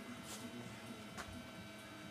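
A 3D printer runs in a school, giving a faint, steady mechanical whir with a couple of soft motor sweeps.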